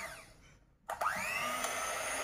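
A Kenwood mixer blender kicks in after a brief quiet and then whirs steadily, its motor pitch rising as the speed picks up. It sounds close and fairly loud, with no talking.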